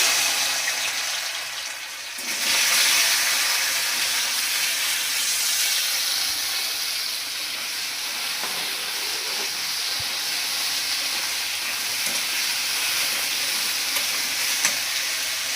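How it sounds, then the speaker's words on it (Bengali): Boiled taro pieces frying in oil, a dense, loud, continuous sizzle and hiss that swells after a brief dip near the start and then holds steady, with only faint occasional stirring clicks and no talking. "মাছ ভাজাতে কচুগুলো ভেজে নেব কচুগুলো সিদ্ধ করে দিয়ে নিয়েছিলাম"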